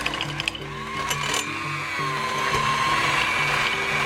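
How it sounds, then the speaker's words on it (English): Stand mixer creaming butter with brown sugar for a Scottish Dundee cake, a whirring motor with a rhythmic tonal hum and a few clicks at the start, steady and close. "So we're creaming the butter with the sugar, the brown sugar, so it's light and fluffy"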